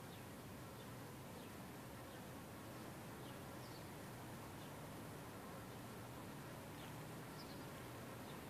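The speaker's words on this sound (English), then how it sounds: "I guess the bees don't seem to mind him being there." A constant hum of buzzing insects, like bees, fills the air steadily with faint higher buzzes passing now and then.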